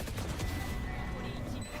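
Gunfire in a Valorant match, a rapid burst of shots under an energetic commentator's voice amid continuous game noise.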